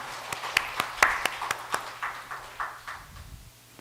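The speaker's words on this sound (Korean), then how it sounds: "우리 수고하신 최영물 목사님께 박수 한번 보내주세요." Congregation at a Sunday afternoon church service applauds the pastor: a short burst of sparse, sharp individual claps, fairly close, fading out after a few seconds.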